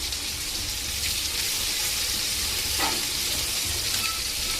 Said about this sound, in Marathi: तर मसाले थोडे परतून घेते